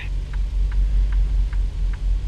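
A heavy truck's engine in TruckersMP labours in a high gear with a deep, steady low rumble and a faint regular ticking pulse above it, loud and close.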